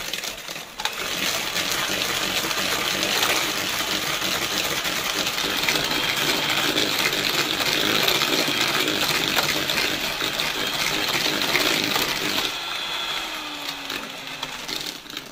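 Eggs beaten by hand with sugar and vanilla in a bowl: a steady, fast scraping and clinking of the whisk that continues without pause for the whole stretch, easing slightly near the end.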